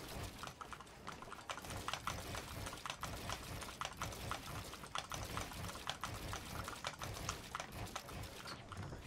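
Rapid, continuous typing on a Monsgeek FUN60 Pro Hall Effect keyboard, with fast clicky keystrokes, steady and close throughout.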